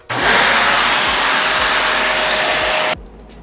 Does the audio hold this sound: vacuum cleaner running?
yes